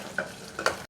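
Ground shallots and pepper powder with curry leaves frying in a small amount of oil. Close, soft sizzling with a couple of brief stirring scrapes within one second.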